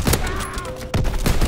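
Enemy strafing-run gunfire in Call of Duty WW2, a short burst of loud rapid shots at the start and again near the end, with a lull of engine-like drone between.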